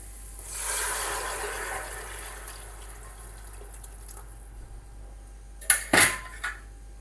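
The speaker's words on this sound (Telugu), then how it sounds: "ఇప్పుడైతే మనం చింతపులుసు అయితే పోసుకుందాం" Tamarind water poured into simmering okra stew in a village-style pot, a soft liquid wash early on fading into quiet bubbling, followed later by a few sharp clinks of a vessel.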